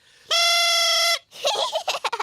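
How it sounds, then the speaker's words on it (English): A cartoon elf musical instrument called the thrump warbler gives a loud, bright, buzzing horn-like honk on a single sustained pitch for under a second, followed by a few seconds of talk. "This is called a thrump warbler."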